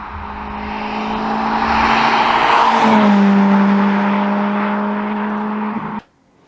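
A Honda FN2 with a K24 engine and a custom 3-inch catback exhaust revs up loud and close, holds a strong droning tone, then cuts off abruptly to near silence.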